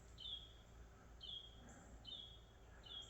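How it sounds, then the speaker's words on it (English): Birds chirp beside a quiet little dirt road, several thin, high, evenly spaced calls repeating over a soft, steady outdoor hush. "Nothing but birds here."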